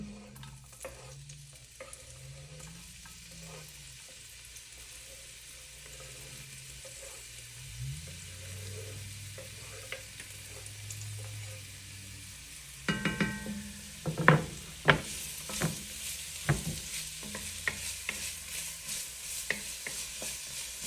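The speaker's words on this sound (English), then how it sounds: "I am going to put my onions and my jalapenos in here" Onions and jalapenos cooking in a warmed soup pot with a spoon, giving a steady low sizzle, scraping stirs, and sharper clinks and crackles that grow busier toward the end, with no talking.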